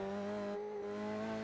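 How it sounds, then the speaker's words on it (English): An F3 sim racing car sounds unhealthy on throttle at the Canadian Grand Prix, a steady, loud, buzzing engine drone with a slight dip in the middle. "Antonio Jimenez's car there didn't sound like it was too healthy as he got on the throttle"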